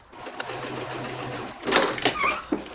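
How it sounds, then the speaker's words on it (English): Sewing machine top stitching the seams of a conceal-carry purse, a brief whirring run of stitches followed by short bursts and faint handling noises. "press your seam, and then we're going to go ahead and top stitch"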